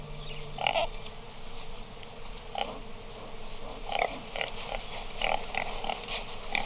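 Tiny wild hogs in South Asia grunt in short, repeated bursts, close and moderately loud over a steady outdoor background hiss.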